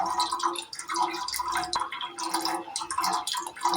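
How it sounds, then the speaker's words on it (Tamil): Water pours and splashes into a pressure cooker in uneven gurgling bursts, close up and fairly loud, with no talking. "அதே கிளாஸில் ரெண்டு கிளாஸு தண்ணி சேர்த்துக்கலாம்"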